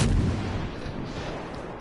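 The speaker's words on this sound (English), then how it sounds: "Let me get hold of my guns on him." Ship guns firing in the naval video game World of Warships Legends, a single heavy, booming salvo that hits at once and then rolls into a long, loud rumbling decay.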